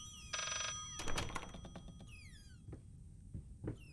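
A telephone rings in the horror game Layers of Fear, a short electronic trill followed by thuds and scattered bumps, with faint sliding tones trailing off into a quiet room.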